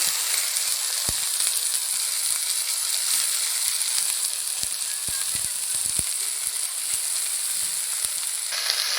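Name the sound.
dhenki shak greens added to hot oil, frying with onion and chilli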